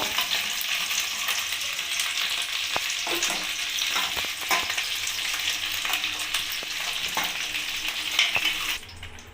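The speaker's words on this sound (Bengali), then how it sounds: "এবার আমি ফুলকপিটাও ভেজে নেব লাল করে" Cauliflower pieces frying in hot oil until browned, giving a steady close-up crackling sizzle with scattered sharp pops and occasional stirring clicks, easing off at the very end.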